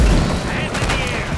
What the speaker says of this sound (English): We got shot fire! Gunshots! Gunshots!